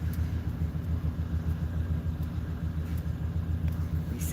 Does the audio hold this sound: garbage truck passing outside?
yes